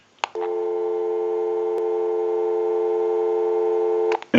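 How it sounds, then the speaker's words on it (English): A telephone busy signal heard through a candlestick telephone receiver, one continuous steady tone lasting about four seconds, clear and fairly loud, with brief clicks at the start and end. "We'll call my number and it'll be busy."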